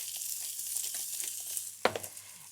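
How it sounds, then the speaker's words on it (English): Soft, steady frying crackle from lamb in a hot pan, with a sharper spitting pop near the end. "So in it goes, nice little sizzle."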